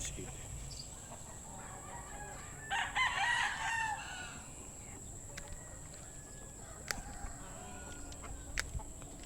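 A rooster crows once, close and fairly loud, at a chicken breeder farm, with faint clucking and other fowl sounds around it in an open, quiet setting.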